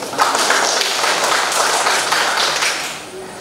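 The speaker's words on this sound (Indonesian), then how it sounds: "Mari kita tepuk tangan." A congregation at a Christmas and New Year thanksgiving service claps hands together, a steady dense patter of many hands that holds evenly before softening at the end.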